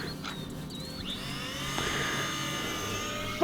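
An Eachine P-40 fighter RC plane's electric propeller motor whines after a backwards launch, its high buzzing pitch rising and sweeping as it speeds up, loud and continuous.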